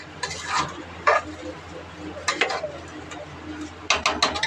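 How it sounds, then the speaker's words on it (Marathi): Homemade pulao is stirred in a pot, producing irregular scraping and clinking bursts of spoon against metal in quick clusters, close and fairly quiet over a faint background hum. "हे बघा चांगलं हलवून घ्यायचं"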